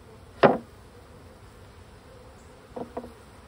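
Honey bees at an opened beehive during an inspection: one close, brief buzz as a bee passes near, then quieter and steady hum, with a couple more short buzzes later.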